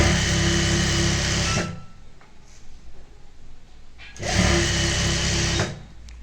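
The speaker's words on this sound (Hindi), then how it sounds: "आधा इंच की सिलाई लगाते हुए इसको जोड़ते जाना है" A sewing machine stitches a waistband strip onto palazzo pants, running close and loud in two steady bursts separated by a quiet pause.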